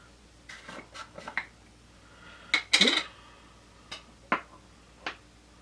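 A handful of light rattling clicks from a container of setting powder, scattered at first, then a quick burst of shaking rattles before a few more isolated taps, close and fairly quiet.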